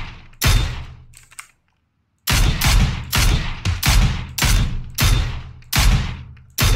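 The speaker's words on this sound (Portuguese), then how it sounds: "É de lá mesmo, os caras tão atirando no muro." Gunfire slams into a wall in PUBG, landing as about eight loud, heavy impacts in two groups separated by a brief silence, each hit sharp with a short decaying tail.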